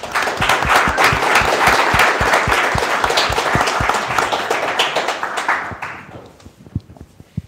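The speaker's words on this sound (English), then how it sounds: "join me in giving them a round of applause" An audience at a crowdfunding panel discussion claps enthusiastically, a dense round of applause lasting several seconds before thinning into a few scattered claps and fading out.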